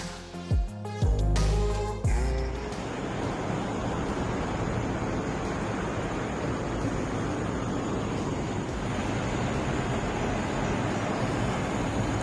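Ocean waves at Virginia Beach, a soft continuous surf wash with wind rumble, preceded by a few brief knocking and handling noises in the opening seconds.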